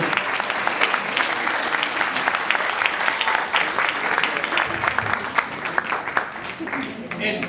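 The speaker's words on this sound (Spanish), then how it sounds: "Un aplauso fuerte para estos jóvenes." A theatre audience applauds young dancers of a dance-fusion group, loud, dense clapping that continues steadily from start to finish, with a few voices mixed into the crowd.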